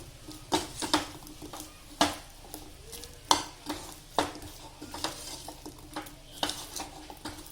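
Roasted gram flour is mixed into a sweet mixture for Uttara Karnataka gulladaki undi made with maida. A utensil scrapes and knocks against the vessel in a steady, uneven rhythm of close, distinct strokes.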